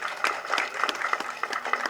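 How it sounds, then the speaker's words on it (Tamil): At a film audio launch, a handful of people clap in scattered, uneven bursts, a sparse patter of individual claps close by for about two seconds. "நம்ம அவருக்கு ஒரு கைத்தட்டல் கொடுக்கணும்"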